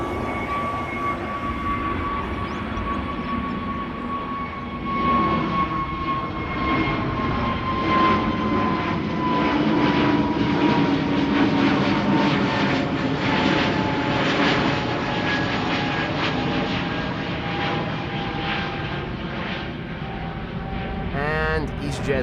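An EasyJet airliner takes off from Amsterdam Schiphol bound for Liverpool, engines rising into a sustained roar with a whining tone that peaks mid-way and then slowly fades, while a person talks over it.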